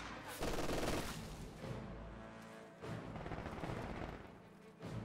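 An MG42 machine gun firing in Company of Heroes 2, bursts of rapid gunfire and booming battle noise, fairly faint and distant in the mix with intermittent surges, without talk.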